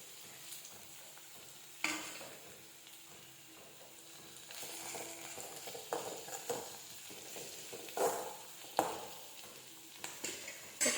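Onions fry in a pan with ginger garlic paste, giving a faint, steady sizzle broken by occasional scrapes and clinks of a spoon against the pan, with no talking.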